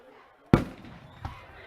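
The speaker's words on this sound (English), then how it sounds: "they're shooting fireworks off here in Lee Summit" A firework bursts with one sharp, loud bang during a homecoming high school football game in Lee's Summit, then a fainter second pop follows. Both are heard at a distance in the open air.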